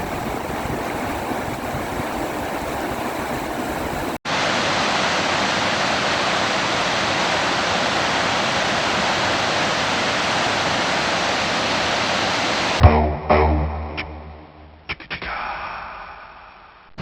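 Chittenango Falls after heavy overnight rain gives off a broad, steady roar of rushing water that holds loud and unbroken for several seconds, then gives way to shifting, muffled rumbling as it fades.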